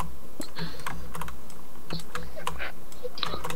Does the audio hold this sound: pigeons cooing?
no